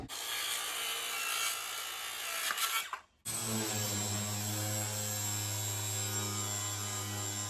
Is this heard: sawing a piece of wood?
yes